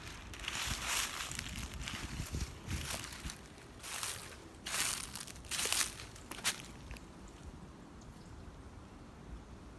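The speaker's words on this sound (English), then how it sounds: "That sounded like footsteps." Crunching footsteps on dry leaves or brush in a cemetery on a windy day, irregular steps close by with rustling, then quieter wind-like hiss toward the end.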